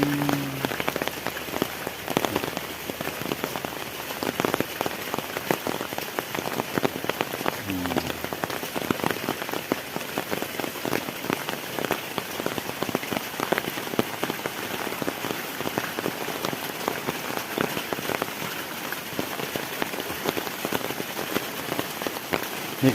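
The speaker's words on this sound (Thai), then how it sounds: "ฝนก็ตก" Steady rain patters densely on a surface for the whole stretch, a continuous soft hiss of many drops with no voices.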